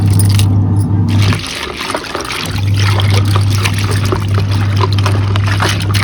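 Dirty water dribbling and pouring out of soaked items, a steady close trickle with splashy irregular patter over a constant low hum, no speech.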